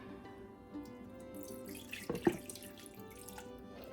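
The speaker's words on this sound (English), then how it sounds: "now we are going to add in our beef broth" Beef broth pours into an Instant Pot holding a beef roast, a close splashing and gurgling stream that swells into a louder burst midway, then trickles and tapers off.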